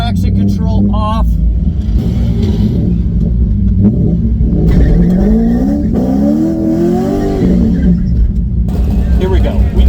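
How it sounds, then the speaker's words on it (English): Car doing a burnout at a street car takeover event, its engine roaring loud and close with revs climbing and falling, mixed with rumble and some tire noise, with voices blended in. "That was a good burnout."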